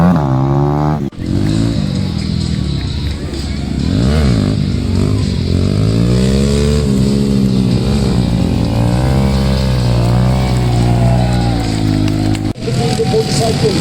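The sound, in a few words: motorcycles performing wheelies at army day parade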